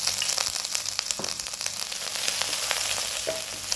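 Sliced garlic, ginger and green chilies fry in hot oil in a pan for eggplant Manchurian, a loud, steady close-up sizzle with crackles and a stirring scrape throughout.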